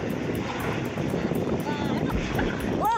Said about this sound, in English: A small aircraft sweeps shockingly low over the road, clearing cars by mere feet